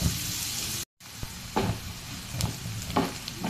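Onions softening in a pan for a potol (pointed gourd) dopeyaja, a steady close sizzle with soft stirring scrapes, cut by a brief dropout early on.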